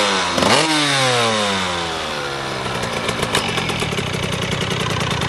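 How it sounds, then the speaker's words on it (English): A KTM 85 two-stroke dirt bike engine revs hard at close range, a sharp rising blip followed by a falling, buzzy drone that settles into a steady, crackling idle-like rasp. "I'm about to give it gas, but I'm going to hold the clutch hand too at the same time."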